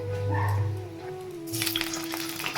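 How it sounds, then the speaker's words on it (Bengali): Eggs frying in hot oil in a wok, a soft steady sizzle that swells into a louder, crackling spatter partway through, close by with no talk. "আমি ডিম ভেজে নিব আগে"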